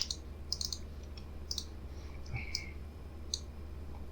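Crisp, quiet mouse clicks in short irregular bursts, some single and some doubled, during topography modeling in design software, with a steady low electrical hum underneath and no talk.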